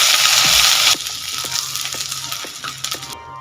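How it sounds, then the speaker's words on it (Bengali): Ginger, garlic and green chili paste frying in the leftover oil from fried rohu fish, a loud broadband sizzle that drops to a steadier, softer crackle after the first second, with a few sharp clinks of a spoon. "এইবার এই বাকি তেলের মধ্যে দিয়ে দেব এক চামচ আদা রসুন কাঁচা লঙ্কা বাটা হালকা ভেজে নেব"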